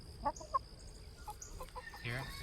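Chickens clucking in a backyard flock of over thirty birds, several soft short clucks and a louder squawk, fairly close but quiet, with faint background murmur.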